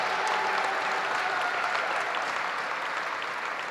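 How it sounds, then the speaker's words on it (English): Dense, steady applause from a large audience, loud and sustained across the whole stretch, fading slightly at the end. "how about another round of applause for our student performers"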